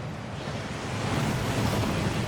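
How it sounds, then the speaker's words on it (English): Rushing waterfall at Gringotts bank in the Hogwarts Legacy video game, a steady broadband roar of falling water that swells slightly louder toward the end, continuous and close with no voices. "That waterfall washes away all enchantments."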